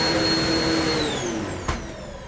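A Kenmore vacuum cleaner runs with a loud, steady whine that slides down in pitch as the motor spins down, with a single thump near the end and no talking.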